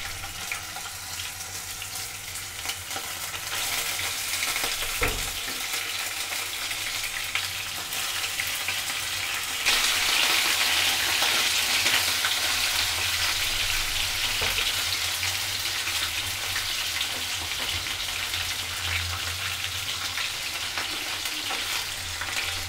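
Mutton pieces for Kashmiri rogan josh sizzle and crackle in a hot pot, a steady close frying hiss with a brief clatter of stirring partway through and no talk.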